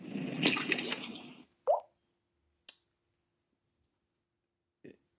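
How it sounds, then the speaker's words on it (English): Water sounds played back through a Bass Jaxx Reverb wireless speaker: a rushing splash for over a second, then a few isolated plops and drips spaced apart in near silence. "it sounds like you're like in a swimming pool, or it sounds like you're like washing your hands"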